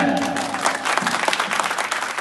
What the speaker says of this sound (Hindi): इस बात में ताली बजाकर स्वागत करेगा